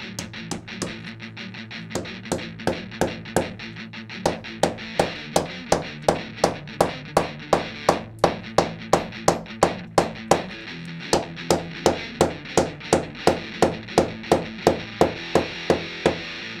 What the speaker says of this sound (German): schlage es einfach mit einem Hammer mit Gewalt in dieses Loch rein